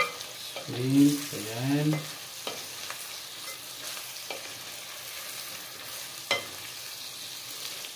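Garlic buttered shrimp stirred in a pan give a soft sizzle and the occasional scrape of a utensil. A voice speaks briefly near the start.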